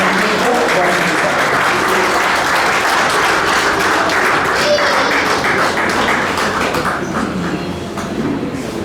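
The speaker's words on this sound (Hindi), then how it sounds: "एक बार तालियों के साथ आमंत्रित करें" A large audience at a ceremony gives loud, dense applause that stays steady throughout. It tapers slightly toward the end.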